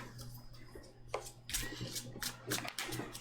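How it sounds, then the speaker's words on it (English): Game cards for the board game Captains of the Gulf being shuffled by hand, a steady riffling and rubbing with brisk bursts of card flutter, close and moderately loud with no talk. "Now we gotta shuffle up the game cards"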